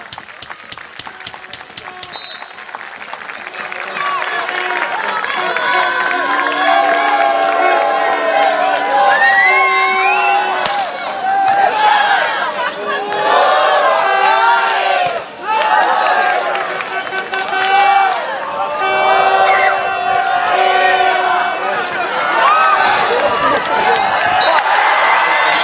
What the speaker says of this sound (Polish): Wszystkie ręce klaszczą.